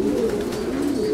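Pigeons in a loft make a steady, low, continuous cooing murmur that stays close and even throughout, with no voices.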